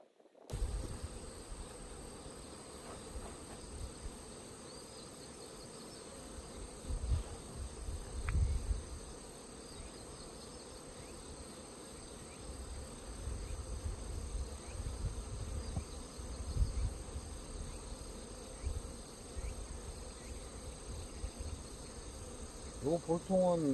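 Honeybees hum around an open beehive during hive work, a steady low drone of many wings with swells and passing individual buzzes, close and continuous, with occasional handling noises.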